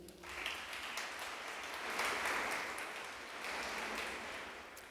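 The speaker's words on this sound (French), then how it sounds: "Vous pouvez aussi les applaudir." Audience at a tribunal-style public event applauding, a soft, somewhat distant wash of clapping that swells and eases across the stretch.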